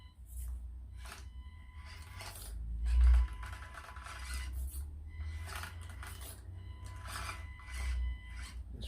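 Plastic body of an Axial SCX24 RC crawler, fitted with Treal shock upgrades, scraping and rubbing against its tires while driving over rough ground, a faint, repeated scratchy rasp that comes in short bursts.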